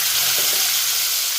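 Cumin and crushed garlic paste frying in hot oil for a vegetable gravy, a steady close sizzle with a couple of brief spattering pops and no talking.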